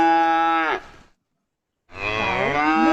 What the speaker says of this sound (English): Cow mews.